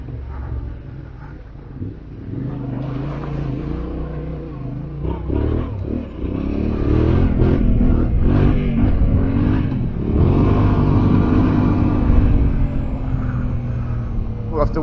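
A Yamaha Ténéré 700 adventure motorcycle rides over rough trail country near Yarraman, Queensland. Its engine rumbles and revs close by, with rattles and clatter from the rough ground, and the sound swells louder in the second half.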